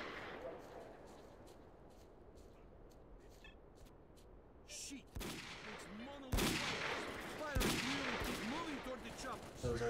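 Gunfire in the video game S.T.A.L.K.E.R.: Call of Pripyat, with sharp shots and bursts growing louder in the second half over a steady ambient bed, mixed with voices.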